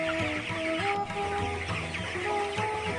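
Chickens on a poultry farm cluck in a steady, overlapping flock chatter, close and continuous with no speech.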